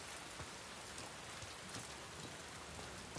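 Steady rain falls in The Last of Us Part II, a dense, even hiss of drops with faint scattered patters and no voices.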